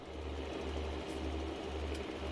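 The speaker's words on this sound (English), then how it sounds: "this tractor's so noisy, but because I've zoomed so far away, it's so freaking quiet" A tractor engine in a farming video game, heard from far away as a quiet, steady, rhythmic low chug pulsing about twice a second.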